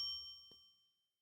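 A single bright ding from a small bell, struck once with a clear ringing tone that decays smoothly to silence within about a second.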